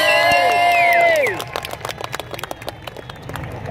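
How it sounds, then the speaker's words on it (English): Crowd applause and cheering at a classic car show held by the Can-Am Car Club at Wimborne, a burst of clapping with whoops and shouts that fades into scattered claps under chatter. "Give him a big round of applause."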